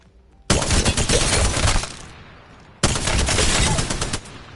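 Two long bursts of fully automatic fire from a gun in Apex Legends, loud and close, split by a brief gap of quieter background.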